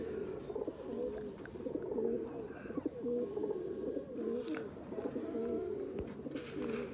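Firozpuri female pigeon paired with a Teddy male, cooing in repeated low, throaty phrases close by, with faint chirps from other birds in the background.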